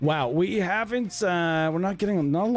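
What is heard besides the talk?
No everyday noise stands out behind the speech.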